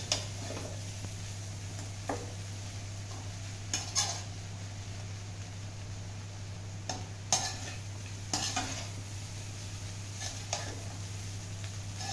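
Beaten rice being stirred and fried in a pan, with a steady low hum throughout and scattered clinks and scrapes of a utensil against the pan at irregular intervals, close and fairly quiet.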